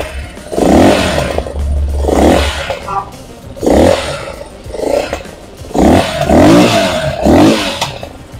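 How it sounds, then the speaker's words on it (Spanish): A Ranger Rally 300 motorcycle engine revs in neutral, several loud, close roaring bursts rising and falling in quick succession with brief idle gaps between them. "Ese es el sonido de esta motocicleta."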